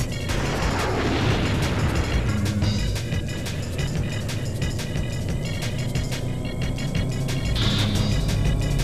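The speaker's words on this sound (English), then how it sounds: "Rear fire rocket." A rear fire rocket explodes in the N64 racing game Extreme-G 2, heard as loud booming blasts over a continuous rumbling engine roar, with a few bursts standing out among the steady game noise.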